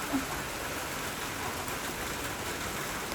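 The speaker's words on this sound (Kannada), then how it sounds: "ಇನ್ನು ಮಳೆ ಬರ್ತಾನೆ ಇದೆ ನೋಡಿ" Steady rain falls outdoors, a soft even hiss of drops that runs unbroken and fairly faint throughout.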